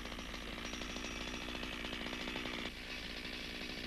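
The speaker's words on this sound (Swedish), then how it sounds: "Tryck sågkroppen med benet mot stammen och såga med skjutande kedja." Chainsaw delimbing a tree trunk with the saw body braced against the leg, cutting with a pushing chain; a loud, steady high-revving engine drone runs continuously, dipping slightly near the end, close and alone.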